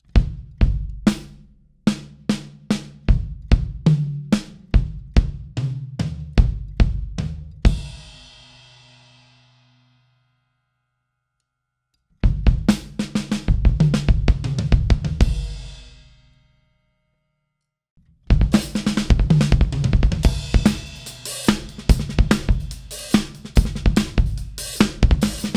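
Gospel chops drum fill on a full kit with kick and crash, played as rapid dense flurries of hits in three bursts separated by gaps where the cymbals ring out and decay.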